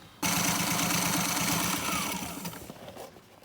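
A sewing machine reinforces the stitching on a boat's sail, running in a fast, even mechanical chatter for about three seconds before slowing and fading out.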